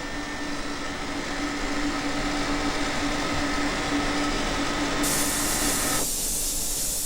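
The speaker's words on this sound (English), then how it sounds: "now that the vinyl's removed, I can get a lot of heat on here" A heat gun blasts on a car's freshly painted body to cure the paint, a loud steady airy roar with a faint whine that holds unchanged, shifting slightly in tone near the end.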